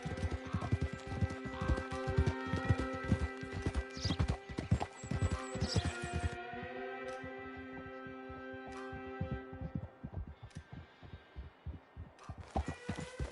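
Horse hooves clip-clopping at a steady riding gait near Moonstone Pond in Red Dead Redemption 2, rhythmic and close, with occasional snorts and a whinny over ambient music.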